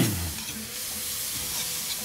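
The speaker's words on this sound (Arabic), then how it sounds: "الزبدة كرملت مع السكر وادي الجزر بتاعي." Carrots caramelizing in butter and sugar in a pan, a steady, close sizzle with a soft stirring scrape at the start, no talking.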